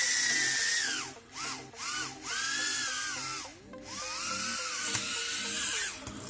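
Small JJRC H36 mini quadcopter drone with buzzing motors, a thin high-pitched whine that rises and falls in pitch in several bursts with short drops between them, heard close and fairly soft, with no talking.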